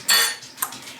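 A lid is set on a glass jar of homemade apple cider vinegar, making a quick metallic clatter followed by a smaller clink, close and fairly loud, with no talking.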